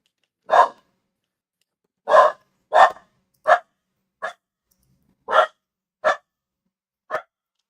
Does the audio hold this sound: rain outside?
no